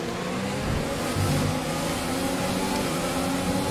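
F1 car engine in the F1 2020 racing game during a race start, a steady loud high-pitched drone with slight rises as the throttle is fed in, continuous and close.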